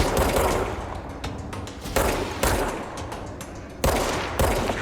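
Gunfire in the video game Control as headshots land on an enemy, a sustained loud burst of rapid shots with several sharper blasts breaking through, no talking.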